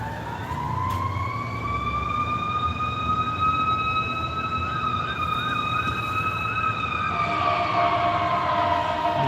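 A loud wailing siren rises and falls steadily, with a second siren tone joining near the end over a background of city traffic.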